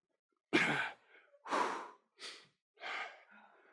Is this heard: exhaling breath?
yes